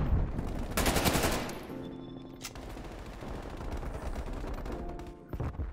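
Krig 6 rifle firing in Call of Duty Cold War, a sustained burst of rapid automatic shots early on, then scattered gunfire and game ambience continuing at moderate level.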